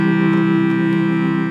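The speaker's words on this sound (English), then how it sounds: "So your C bass should sound like this. And your chord right next to it." An accordion plays a C bass note and its neighbouring chord with the orchestra chord register on, a loud sustained reedy drone held steadily and alone.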